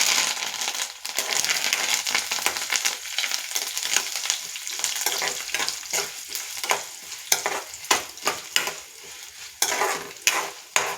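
Curry leaves stir-fried in hot oil for a broad bean fry, loud close sizzling and crackling under continuous scraping of a spatula against the pan, with irregular rustling strokes throughout.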